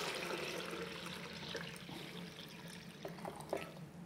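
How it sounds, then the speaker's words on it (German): Warm water runs steadily from a kitchen tap while descaling a portafilter espresso machine, a continuous close splashing stream with a few faint drips and clinks near the end, no talking. "Ich habe warmes Wasser aus dem Hahn."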